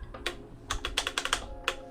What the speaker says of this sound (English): to put new keycaps on, you just press down on them